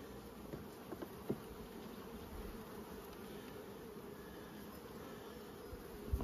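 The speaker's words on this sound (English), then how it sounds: "Little bees in there." Bees in a beehive make a steady, low, close buzz that holds throughout without voices. A few faint knocks and clicks from the hive sit beneath the drone.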